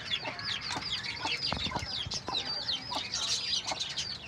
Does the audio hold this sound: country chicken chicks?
yes